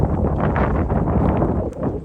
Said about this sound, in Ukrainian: За вітер будете вибачати, бо погоду я не вибираю.